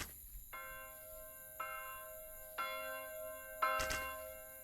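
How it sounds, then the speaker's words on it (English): A warning bell in the video game Colony Survival tolls four times at roughly one-second intervals. Each strike is clear and ringing and trails off into a sustained hum. A brief knock comes near the end, and no voices are heard. "I just right-clicked on it, and it rang the bell for me"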